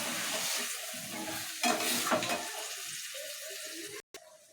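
Mustard paste loosened with water poured into a hot frying pan, giving a steady close sizzle with stirring that swells briefly midway, then a short gap of near silence before a quieter hiss resumes.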